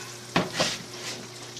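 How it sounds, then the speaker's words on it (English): Carrots frying in bacon grease with a low continuous sizzle, broken by one sharp clink near the start and a softer stir just after, close by and with no talk. "We're going to put it back on the heat and let them fry"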